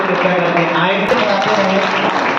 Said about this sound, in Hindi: एक बार जोरदार तालियां हमारे राकेश मेहरोत्रा जी के लिए